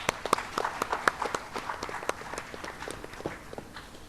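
An audience applauds to welcome a panel at a careers talk, with a sparse, uneven patter of individual claps close by that thins out toward the end.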